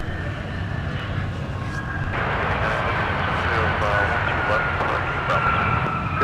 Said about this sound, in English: Here's SkyWest coming in from CID with the E175LR.